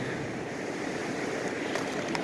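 Ocean waves wash up and recede on a beach, a steady broadband surf rush heard close and continuous, with light wind noise on the microphone and no talking.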